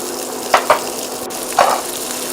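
Mutton stirred in a pot with ground cumin, turmeric and chilli powder, oil-free: a few short scraping, shuffling stirs, two quick strokes then a longer one, close and moderately loud over a low steady hiss.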